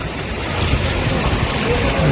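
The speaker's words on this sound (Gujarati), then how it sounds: "સુરતમાં વરસાદ આવ્યો, જોરદાર મસ્ત વરસાદ આવ્યો" Steady heavy unseasonal rain in Surat, Gujarat, a dense continuous hiss with low rumbling underneath, close and loud throughout.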